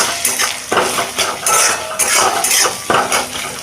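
Ground spices such as Kashmiri chilli, cumin and coriander being stirred and fried in a pan, with repeated scraping strokes and metallic clinks of a spoon against the pan over soft sizzle, close and fairly loud.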